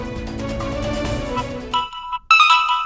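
After a stretch of busy background sound, an electronic phone ringtone plays its repeating melodic tones, loud and clear.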